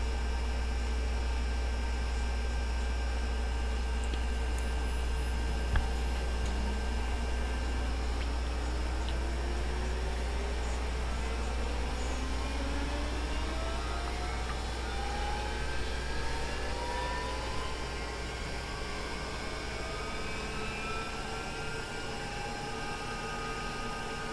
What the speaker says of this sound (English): Engine has settled, so let's start engine number 2.